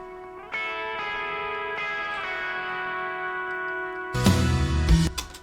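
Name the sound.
electric guitar with heavy reverb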